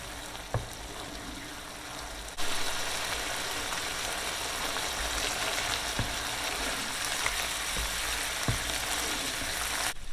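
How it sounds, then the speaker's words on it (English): Ground beef with peas and ginger sizzling in a pan, a steady broadband fry hiss that jumps louder partway through as ingredients go in, with a few sharp clicks of a utensil against the pan. "just put it in and stir it all together"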